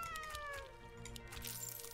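A cat unit in the Legion TD 2 strategy game gives a short meow-like cry over steady background game music and effects, moderately quiet.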